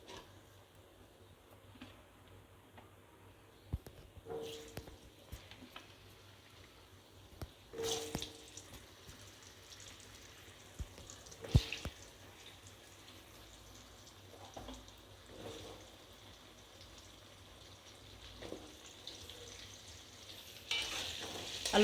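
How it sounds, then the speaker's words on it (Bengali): Potatoes fry in hot oil seasoned with salt and turmeric, a faint steady sizzle punctuated by occasional sharp clinks and scrapes of stirring. "এর মধ্যেই আমি এবার আলুটা দিয়ে ভেজে নেব।"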